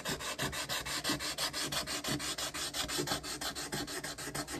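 Rapid, regular back-and-forth rasping of sandpaper on a wooden garganelli pasta board, close and steady, about six strokes per second.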